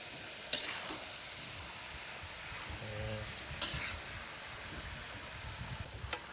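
A jackfruit dish with shrimp paste (bagoong) and plenty of ginger is stirred in a pan. Quiet sizzling runs throughout, with a couple of sharp utensil clinks and soft scraping strokes, and no talking.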